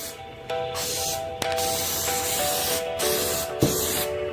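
A heavy final coat of spray paint goes onto a center console, producing a loud, steady hiss from close by that is broken by a few short pauses between passes.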